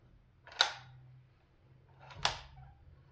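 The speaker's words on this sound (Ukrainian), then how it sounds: "ну, от подивіться, як ходить затвор" A .30-06 rifle bolt is worked twice, two crisp metallic clacks about a second and a half apart, close and distinct against a quiet background with no talking.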